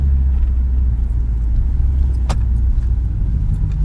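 A 454 HP Maserati GranTurismo Sport on a test drive, heard from inside as a steady, loud low engine and road rumble, with a brief sharp click partway through.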